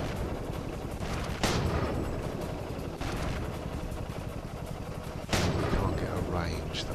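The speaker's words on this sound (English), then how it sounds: "He's shooting from a long way away." Distant tank cannon fire in the World of Tanks video game: two sharp, loud reports a few seconds apart cut through a steady background rumble, each with a short rolling tail.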